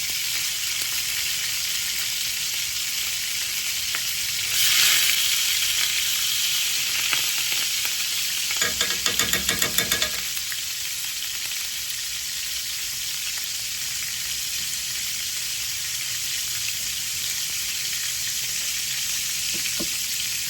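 Hot oil sizzling steadily as a tomahawk ribeye steak sears in a pan, a continuous hiss with a louder burst of popping and crackling partway through.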